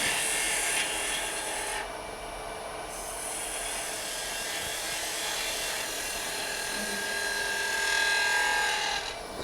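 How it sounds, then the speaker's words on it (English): Detail gouge turning a half bead on a wood lathe at a woodturning club demonstration: a steady, loud rasping shear of the cutting edge over continuous machine hum, fairly close, with no talk. "Just take my detail gouge now. Let's see if we can roll a half a bead here or some sort."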